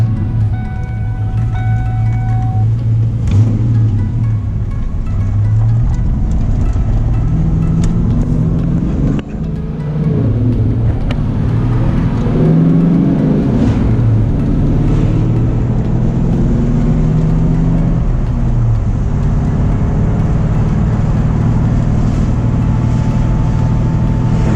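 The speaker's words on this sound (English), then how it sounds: "Car drives really smooth, especially down this low RPM side." A Ford Mustang with a freshly rebuilt 8.8 rear end cruises at low RPM, its steady, deep engine drone and road rumble continuing without a break, with soft shifts in pitch as the car rolls along.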